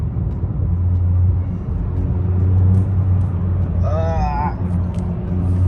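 A 2018-2022 Honda Accord Sport engine pulls in third gear on paddle shifters, giving a low, steady cabin rumble while the driver talks over it.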